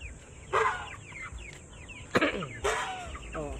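Hungry chicks and chickens clamour for feed with bursts of clucking and squawking calls, a few louder outbursts standing out over a quiet farmyard background.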